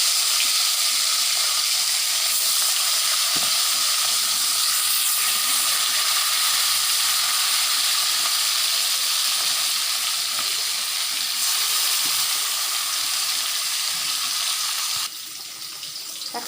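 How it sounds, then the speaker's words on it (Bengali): Fish frying in hot oil in a home kitchen pan, a loud, steady broadband sizzle that runs continuously and eases slightly near the end. "তেলটা গরম হয়ে গেছে, মাছগুলো ভেজে নিই।"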